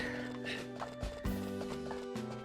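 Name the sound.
horse hooves in video game Harvest Moon A Wonderful Life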